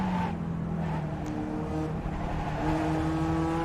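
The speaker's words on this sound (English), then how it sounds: "Heavy into the brakes." A race car at Road America braking hard on track, with a loud, continuous engine drone and shifting tonal whine as revs drop and change pitch, close and steady throughout.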